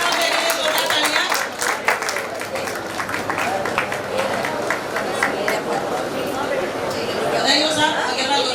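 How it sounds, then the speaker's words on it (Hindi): Applause and clapping from an audience at a Digambar Jain Bagherwal women's wing gathering in Kota, steady and dense throughout, mixed with crowd chatter and a speaking voice. "जोरदार जोरदार ताली बजाएं राजदर्शी के लिए"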